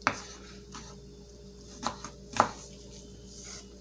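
Vegetables being chopped for a beef empanada filling, a few separate knife strikes on a cutting board spaced apart, fairly close and quiet in an otherwise still kitchen.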